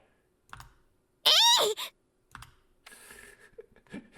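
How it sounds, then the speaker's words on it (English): A keyboard key is struck hard in the visual novel Ever17 on an Xbox remake: a few sharp clicks, a bright chiming tone near the middle, then a short burst of clattering keystrokes, with no talking. "Sarah pressed the enter key with all her might."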